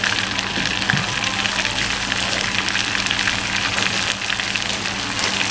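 Whole cumin seeds, about a teaspoon, fry in hot oil in a pan for haleem, a steady loud sizzle and crackle held close throughout with no talking.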